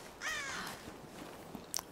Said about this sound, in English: Crows, they're not going to be any good.